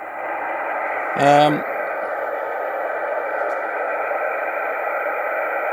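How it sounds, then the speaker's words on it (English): A steady band of radio static hisses throughout on a Yaesu FT-817 portable radio near 7093, broken early by a brief warbling burst of interference that rises and falls in tone. "Just waiting for this little bit of noise to move off."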